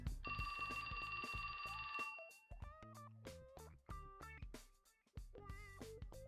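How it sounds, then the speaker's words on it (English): A phone rings with a steady electronic trill for about two seconds, loud and close, then melodic ringtone-like tones continue in stepped patterns with a brief gap before resuming. "That's my phone."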